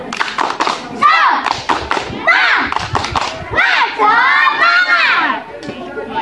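Schoolchildren doing the 'tepuk semangat' clapping routine in class, rhythmic claps and thumps mixed with loud group chanting and shouting voices close by.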